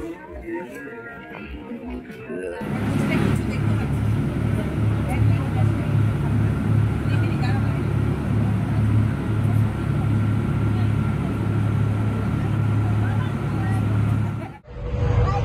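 A passenger launch on a river crossing to Naihati runs its engine with a steady low drone and rhythmic throb close by. Faint background voices can be heard around it, and the sound stays continuous until a brief dip near the end.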